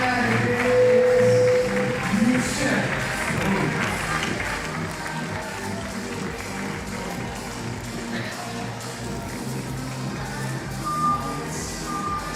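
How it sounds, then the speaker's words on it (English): Spectators gathered at an outdoor men's bouldering semi-final in Innsbruck produce a steady, loud murmur of crowd chatter and background bustle, with a brief electronic tone early and another near the end. "So there's our crowd."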